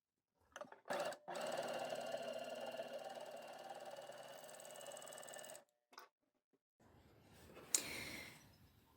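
An overlocker runs a flatlock seam with a steady fast mechanical whirring hum, close and fairly quiet, for about five seconds, then stops, with a short burst and some handling noise afterward.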